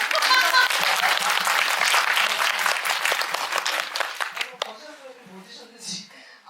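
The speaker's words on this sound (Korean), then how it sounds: "박수 한번" A cinema talk audience bursts into loud, dense applause that carries steadily for several seconds, then thins out into a few scattered claps as it fades.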